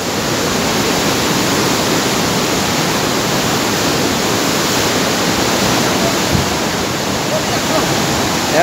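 A flooded river in the Puchca valley rushes in a loud, constant roar of churning water, close and unbroken throughout.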